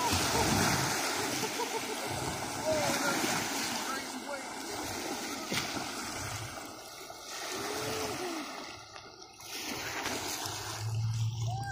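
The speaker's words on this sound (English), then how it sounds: "now all the waves are coming in because of a nice boat that decided to come through" Waves from a speeding motorboat's wake splash and wash along a lake shore, a busy, uneven sloshing that swells and eases over several seconds against outdoor background noise.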